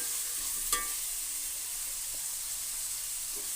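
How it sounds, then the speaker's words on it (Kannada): Food fries in a pan on a stove while cooking a capsicum gravy, giving a steady, loud sizzle throughout with one brief clink of a utensil near the start. "ಇದನ್ನು ಸ್ವಲ್ಪ ಉರಿತೀನಿ. ಹುರಿದ್ಬಿಟ್ಟು ಸಣ್ಣ ಇದೊಂದು 5 ನಿಮಿಷ ಕೆಂಪಗಾಗಬೇಕು"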